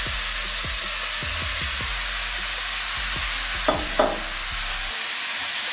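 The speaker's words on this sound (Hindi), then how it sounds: "अब इसके अंदर जो हमने टमाटो चॉप किए थे वो डाल देंगे सारे।" Chopped tomatoes tumble into a hot pan of softened onion for a homemade pizza sauce, raising a steady, loud sizzle with a brief burst of hissing steam and soft stirring clatter, no voices.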